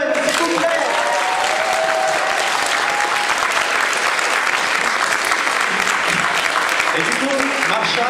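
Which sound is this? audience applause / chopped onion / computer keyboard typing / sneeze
audience applause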